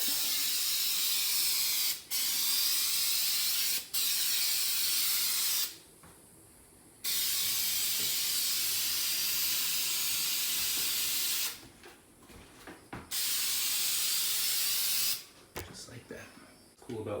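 Krylon spray lacquer sprayed onto a bathroom countertop in long, loud, close hissing bursts, broken by short pauses and a few quieter gaps, with a fan running.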